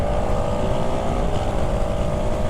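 A GasGas 700 supermoto motorcycle's single-cylinder engine pulls hard in fourth gear, a loud, steady droning roar with wind rush, continuous and close with no talk.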